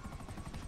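A helicopter in GTA 5, its rotor thumping in a brief faint burst with no voices over it.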